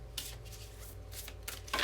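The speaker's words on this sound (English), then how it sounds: "I'm going to do a good faith shuffle on each one" Tarot cards shuffled by hand at close range, a brief burst of crisp riffling and slapping with a sharper flutter at the end, no talking.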